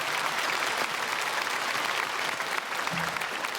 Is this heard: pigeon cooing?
no